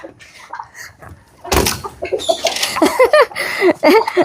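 Domestic chickens clucking close by in a short series of calls after a loud rustle or thump, with other calls in the background.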